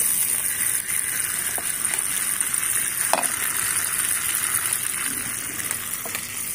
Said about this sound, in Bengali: চিকেনটাতে আমি শুধু নুন দিয়েছি, নুন দিয়ে একটুখানি ভেজে নিলাম